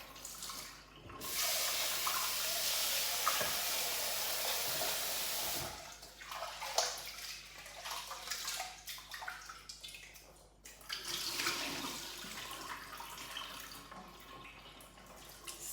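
Rinse water tipped off washed rice in a home kitchen, a steady rushing pour lasting several seconds that gives way to softer trickles, drips and light handling noises.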